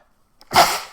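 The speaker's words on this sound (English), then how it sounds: "hold on, I'm going to sneeze again" A single sharp sneeze bursts out near the microphone, brief and forceful, with silence before it.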